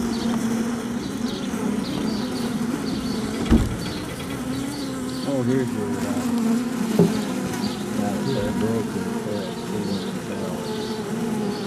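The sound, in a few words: bees buzzing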